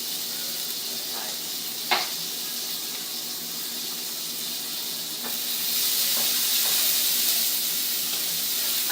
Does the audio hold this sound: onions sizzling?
yes